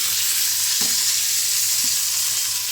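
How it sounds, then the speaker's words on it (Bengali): Potatoes sizzle steadily in hot oil over tempered spices for a dry coriander potato dish, with a continuous close frying hiss and a few soft stirring knocks from a spoon. "এবারে আলুটা দিয়ে দিলাম, একটু নেড়ে দিই।"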